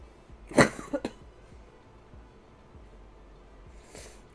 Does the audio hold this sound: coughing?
yes